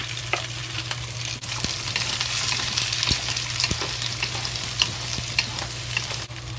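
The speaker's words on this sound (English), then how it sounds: "we add the green pepper, red pepper, and onion into it to fry" Green pepper, red pepper and onion stir-frying with ginger for fried pork with pineapple: a continuous close sizzle with sharp scraping and clicking strokes scattered throughout over a low hum, no talking.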